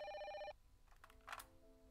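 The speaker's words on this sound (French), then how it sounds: "téléphone" Electronic telephone ring in the video game Memento Mori, one loud half-second trill followed by quieter tonal beeps and a faint click.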